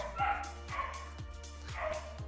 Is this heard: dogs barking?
yes